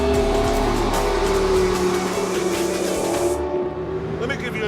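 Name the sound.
McLaren P1 hybrid supercar accelerating, petrol engine and turbos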